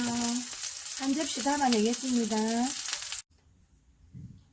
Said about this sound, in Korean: 중약불에서 구워야지 굴전을 먹을 때 육즙이 쫙쫙 나오거든요